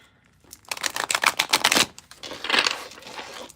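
A deck of playing cards is shuffled up close: a quick burst of riffling clicks, a short pause, then a second softer riffle, with no voices.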